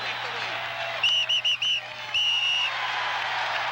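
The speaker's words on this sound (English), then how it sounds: "Get your whistle out of here," A whistle shrills at Veterans Stadium during a Phillies baseball game: four quick close blasts, then one longer blast, loud over a steady crowd murmur.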